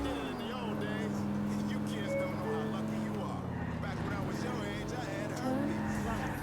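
A stolen car driven in a video game, its engine droning steadily and shifting pitch as it speeds along, with dense game sounds and voices layered over it throughout.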